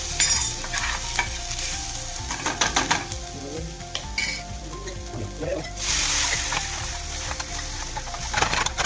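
Stirring salt into Gujarati yogurt kadhi in a pan, with close scraping and swirling over a steady sizzle and faint utensil clinks throughout.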